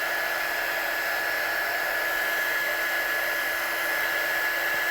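A handheld heat embossing tool blows continuously with a steady, even whir and airy hiss close by, unchanging throughout.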